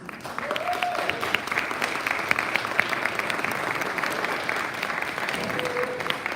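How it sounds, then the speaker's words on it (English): Rotary club members at a year-end review meeting applaud honoured long-serving members, a sustained room-filling round of clapping with a few brief voices heard faintly underneath. "One more round of applause, please."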